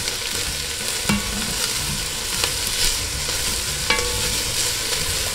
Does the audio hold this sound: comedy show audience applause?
no